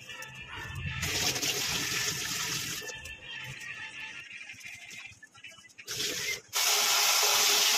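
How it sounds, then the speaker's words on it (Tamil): Water from a tap gushes steadily while vegetables for curry are rinsed, a loud close hiss with scrubbing and rubbing, briefly easing before surging back even stronger at the end. "இந்த பக்கம் குழம்பு வைக்கிற காய்கறியெல்லாம் எடுத்து வாஷ் பண்ணுறதுக்கு ரெடி பண்ணிகிட்ருக்கோம்"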